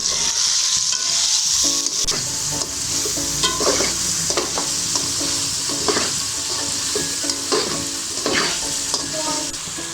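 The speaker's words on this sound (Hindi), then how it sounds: "अब मैं इसमें सारे मसाले डालूँगी, अच्छे से इसकी बुनाई करेंगे" Chicken with spices for Lahori chicken chanay fries loudly in a pan, with a constant close sizzle broken by repeated scraping stirs, each stroke a brief rasp.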